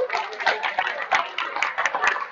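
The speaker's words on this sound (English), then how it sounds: "Give each other a round of applause" A small group of activity participants claps in a short round of applause, dense overlapping hand claps at a fairly close, moderate level.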